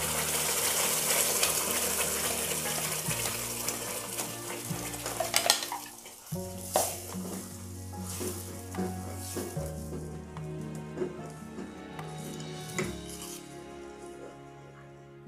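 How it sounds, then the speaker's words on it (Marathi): Ground masala paste sautéing with softened onion in a pan for a kingfish curry, on low heat: a steady close sizzle with intermittent spatula scrapes and stirring clatter, no talking. "हे मिश्रण टाकल्यावर मी 1/2 मिनिटभर याला थोडंसं जस्ट परतून घेतलं आहे"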